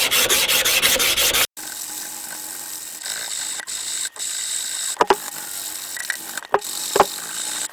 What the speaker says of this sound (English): I have decided to completely hand sand this knife.